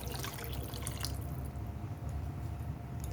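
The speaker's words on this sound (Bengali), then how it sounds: "এবারে আমি দিয়ে দেবো পরিমাণ মতন জল" Water splashes and trickles into a pan of spiced curry gravy for a fish dish, a brief, close pour that fades into faint, steady background noise with no talking.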